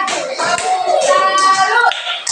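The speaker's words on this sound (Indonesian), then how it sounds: "mari kita tepuk tangan untuk kelompok satu" Classroom group applauding together for the first student group, a dense run of clapping hands with children's voices mixed in, steady and fairly loud for a couple of seconds.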